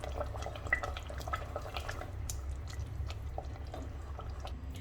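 Boiled spinach being mashed with a wooden masher in a pot, giving soft, wet squelching and dripping sounds in a steady rhythm, close and fairly quiet, with no talking.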